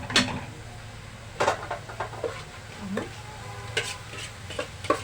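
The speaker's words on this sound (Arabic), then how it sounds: "بصوا نحط بقى عليها البصل اهو" Onion added to a hot frying pan sizzles steadily under repeated scraping stirs of a utensil, with sharp clatters and light ticks at close range.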